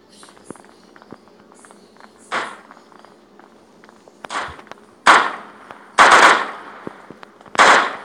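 Gunfire in a Prop Hunt video game: several sharp bursts of shots, the loudest clustered near the end, over quiet background clicks and steps.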